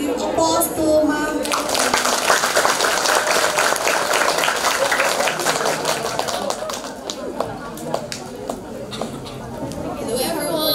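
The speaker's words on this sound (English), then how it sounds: "Please give applause to Ma'am." Audience applause for a teacher at a bilingual teaching sharing session, a dense wash of claps mixed with chatter and children's voices, loud and sustained, thinning into scattered claps toward the end.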